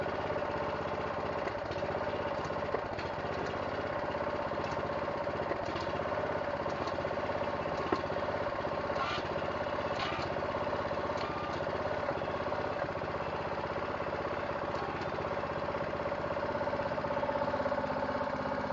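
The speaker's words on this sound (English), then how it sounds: "crank up the machine and we'll go ahead and jack this wall" A jacking machine lifts a settling brick wall, its motor droning steadily at a constant mid-pitched hum with faint vibration throughout, fairly quiet and with no talking.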